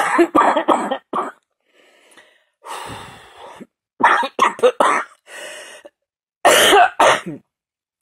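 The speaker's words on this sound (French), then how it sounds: "je peux même pas faire une phrase entière sans tousser" A woman coughs repeatedly in harsh bursts, with throat clearing and breathy pauses between fits, close to the listener.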